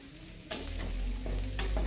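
Garlic frying in cooking oil in a wok while a squid and tempe sambal is cooked, with soft stirring scrapes over a steady close sizzle that swells in loudness partway through.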